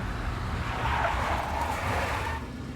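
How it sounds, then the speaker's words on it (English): Tires of a big black Mercedes skid in the Max Payne video game, a steady rushing screech with engine noise held at moderate level for about three seconds before easing off slightly. "A big black Mercedes."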